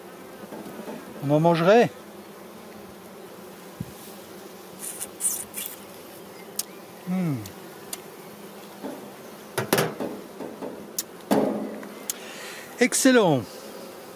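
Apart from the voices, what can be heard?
honeybees buzzing at an open beehive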